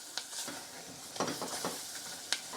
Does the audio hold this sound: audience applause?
no